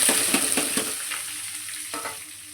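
Onions and tomatoes frying for urundai kuzhambu, a bright close sizzle with several quick stirring scrapes of a spoon against the pan, gradually easing off, with no talking.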